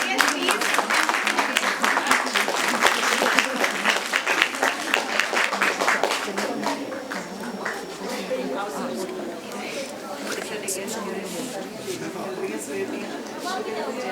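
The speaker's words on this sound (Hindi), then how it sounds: "तालियां बजती रहे ऑडियंस।" An audience at a National Startup Day ceremony breaks into dense, sustained clapping that thins to scattered claps after a few seconds, with chatter and voices carrying over it throughout.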